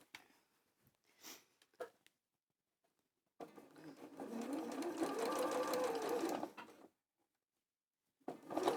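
A sewing machine runs a continuous stitching burst for about three seconds, sewing fabric a quarter inch either side of a line, with faint handling clicks before and a brief start of another run at the end.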